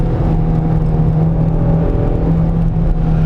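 2003 Mazdaspeed Protege accelerating, a steady loud engine drone from inside the car with a firm low hum and whir that holds evenly through the stretch, no talk.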